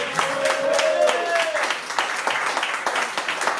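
A concert crowd in Nice applauds with a steady wash of clapping, while a brief sustained tone and a faint voice sit under it near the start before the applause carries on alone.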